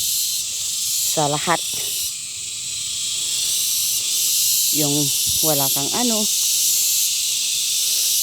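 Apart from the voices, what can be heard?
crickets chirping in a forest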